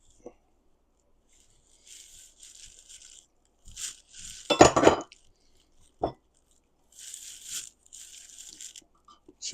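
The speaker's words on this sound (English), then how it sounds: "I'm getting this rubber spatula so that I can incorporate all of the mixture" A rubber spatula works a batter mixture around a bowl, soft intermittent scraping and squishing strokes with quiet pauses between them and one louder clattering scrape in the middle.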